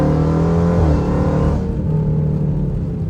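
Jeep Trackhawk accelerating hard, its engine revving loud and close with a rising harmonic whine that shifts partway through, a heavy continuous roar throughout.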